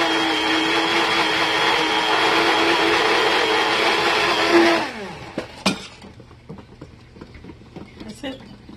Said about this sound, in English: So I'm going to use the blender